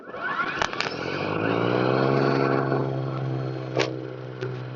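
A Ryobi RY40870 two-stage battery snow blower chews through a deep snow drift, a steady whirring motor drone that swells and holds with a few sharp knocks and scrapes, close up and continuous.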